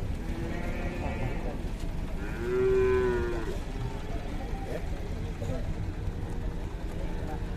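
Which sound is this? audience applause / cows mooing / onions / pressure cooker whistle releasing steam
cows mooing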